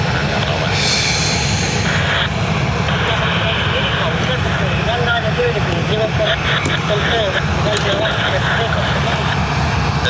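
A Ryanair airliner departing Dublin Airport roars with a steady, loud broadband jet engine rumble throughout, while a voice talks over it.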